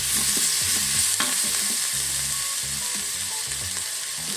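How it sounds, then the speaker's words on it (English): Soy sauce and rice vinegar hitting a hot Instant Pot insert while pork shoulder is braised, giving a steady close sizzle with rhythmic scraping and stirring underneath; no talking. "Adding my soy sauce and vinegar. I'm using rice vinegar today."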